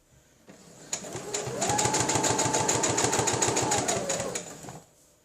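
Sewing machine stitching fabric for a wet bag; a fast, even run of needle clatter that builds up and holds steady for several seconds, then stops, close and fairly loud.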